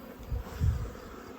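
A brief, low buzzing of a bee close by, swelling twice in quick pulses.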